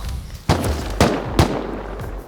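Three sharp MP5 gunshot bursts in the game Rust crack out at roughly half-second spacing over a steady low rumble, loud and close.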